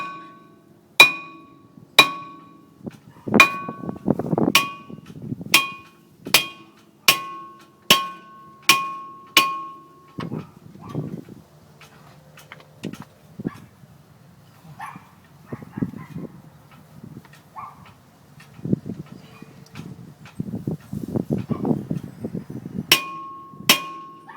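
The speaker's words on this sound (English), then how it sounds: "you can just hammer that out" Sharp metallic hammer strikes ring out on a Honda Prelude brake rotor in a steady series, about one per second, then pause amid clattering and handling before a few more blows.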